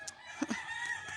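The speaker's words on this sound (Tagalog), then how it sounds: "ado ti manok me" Backyard chickens cluck in short bursts, a couple of close clucks standing out over a faint steady background, with no one talking.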